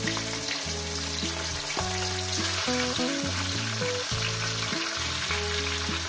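Rohu fish heads frying in hot oil, a steady, loud, dense sizzle that keeps going without a break, with faint clatter underneath and no talking.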